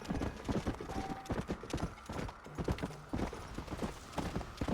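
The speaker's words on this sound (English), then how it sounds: "this is just a normal horse" A normal horse's hooves clip-clop in Red Dead Redemption, a steady loud rhythmic trot of close, sharp hoof strikes that continues throughout.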